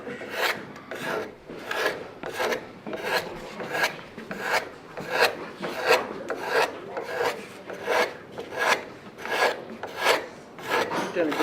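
Card scraper scraping a wooden guitar neck in a workshop: loud, rhythmic rasping strokes, about fifteen evenly spaced passes, close and dry, with no talking.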